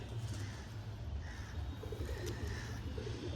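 A pair of Giribaz pigeons coo softly in low, repeated throaty pulses, faint and steady, with no talking.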